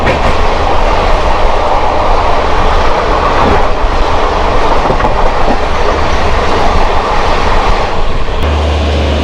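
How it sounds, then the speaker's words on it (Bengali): Train engines rumble at Howrah railway station, a loud, continuous, heavy drone with a broad roaring wash that stays steady throughout, close by and unbroken by speech. "এখানে প্রচুর ইঞ্জিনের আওয়াজ"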